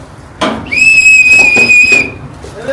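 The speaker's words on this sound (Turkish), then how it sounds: "Yerimizi belirtmek için düdük öttürerek ikaz verelim, bizi bulsunlar." A single shrill rescue whistle blast rings out for over a second, loud and close, with a thump just before it.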